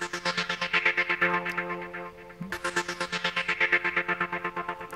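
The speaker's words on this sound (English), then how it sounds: "So this is the Rye Ultra Tremble." Rye Ultra Tremble synth patch playing fast, percussive arpeggiated pulses in a rapid even rhythm, with a brief break in the middle before the pattern resumes, heard alone with no voices.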